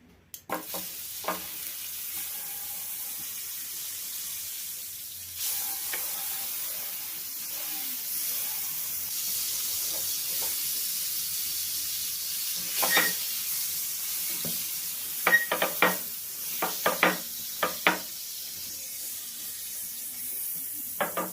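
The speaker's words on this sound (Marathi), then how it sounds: "आता या पॅनमध्ये आपल्याला बटर टाकायचं आहे" Butter melting in a pan while burger buns toast for a crispy veg burger, giving a soft steady hiss and sizzle with scattered clinks and scrapes of utensils against the pan.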